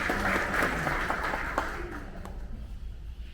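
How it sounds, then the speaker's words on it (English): At a city election debate, an audience gives a round of applause for elected officials and first responders. The clapping is moderately loud at first, then thins and fades to scattered claps. "let us recognize you with a round of applause"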